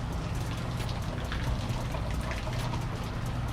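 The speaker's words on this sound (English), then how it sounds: "As I was filming that, it started to pour." Heavy rain pours down at a motorcycle racetrack, a dense, steady roar of drops hitting surfaces that stays close and loud throughout, with no talking.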